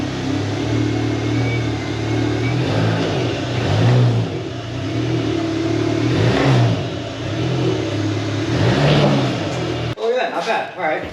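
A VW MK7 GTI engine revs in repeated swells as the car creeps up onto ramps, a steady mid-pitched drone rising and falling close by, cut off abruptly near the end.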